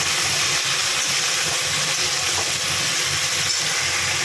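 Chopped eggplant, potato and sweet potato dropped into hot oil give a loud, steady broadband sizzle that hisses continuously and evenly throughout with no pauses.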